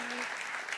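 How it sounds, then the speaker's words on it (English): Audience applause at an awards ceremony, a dense, steady wash of clapping heard briefly and evenly, with a faint voice at the very start. "so please give her a round of applause"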